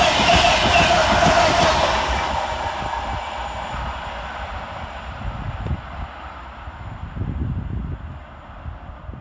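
A Class 91 electric locomotive, 91110, on a London King's Cross to Leeds service passes through Newark Northgate station, a loud close rumble and rush that fades to a lower clatter of wheels on rails.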